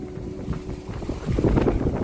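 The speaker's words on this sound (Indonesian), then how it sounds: "Anginnya kencang banget oh." Strong wind buffets the microphone beside a shrine near a river in Saitama, Japan, producing a continuous rumbling roar that swells louder toward the end.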